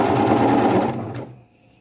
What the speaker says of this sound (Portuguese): faço a costura de fora a fora